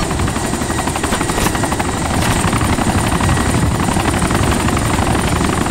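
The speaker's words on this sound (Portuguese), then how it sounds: "eu tô vendo helicóptero" Helicopter in the video game DayZ, a steady loud rotor thump and engine whine droning continuously without pause.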